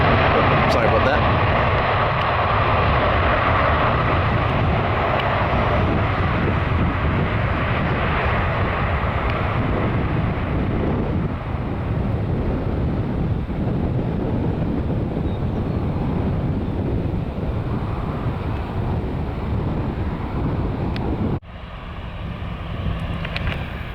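A jet airliner landing at RSW airport roars loud and steady with broad wind-like rumble for most of the stretch, then drops off abruptly near the end; a voice talks over part of it.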